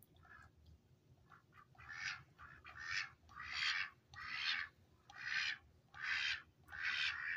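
Ducks quack in a steady series of about seven loud, raspy calls, rhythmic and fairly close, over a quiet low outdoor rumble with no talk.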